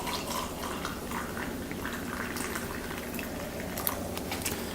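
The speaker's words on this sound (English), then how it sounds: "So you want to put about 6 to 8 ounces of hot water in here." Hot water poured into a glass over hot buttered rum batter and brown sugar, a steady close bubbling, splashing stream running throughout with no talk.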